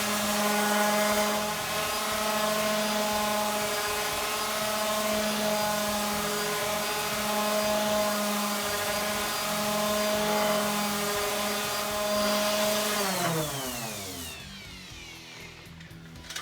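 Power sander smoothing a walnut guitar fretboard with inlay over wet glue, a loud steady whine with strong harmonics that holds for about thirteen seconds, then winds down in pitch as the tool spins to a stop.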